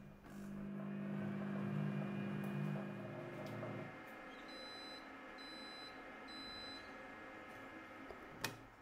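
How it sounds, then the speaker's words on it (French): A Compact Cook Elite cooker gives three short, high beeps to mark the end of cooking. They sound fairly soft and evenly spaced above a steady background hum. "Les 3 bips sonores indiquent la fin de la cuisson."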